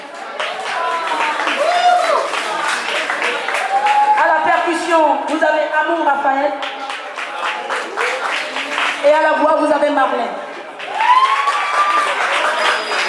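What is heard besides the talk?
audience applauding a band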